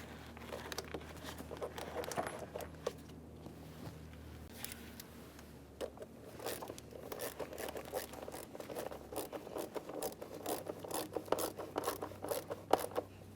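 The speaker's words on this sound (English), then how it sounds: "and then you want to tighten the clamp." A hose clamp is tightened on the throttle body of a 3.6L V6 GMC Acadia, giving a quiet series of small clicking, ratcheting tool sounds that grow denser toward the end, close up with no talk.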